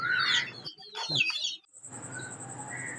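A few close clucks and squawks from native village chickens in quick bursts, followed by quieter background chirping and a faint high tone.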